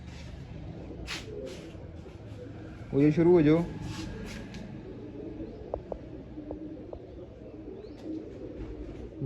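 Two freshly released pigeons give a brief, throaty coo once, fairly close, amid quiet background and someone speaking briefly.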